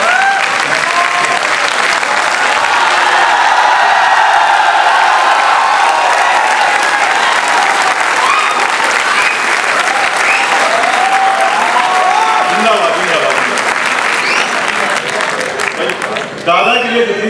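An audience at a kavi sammelan poetry recital applauds loudly and continuously, dense clapping holding steady before thinning out near the end.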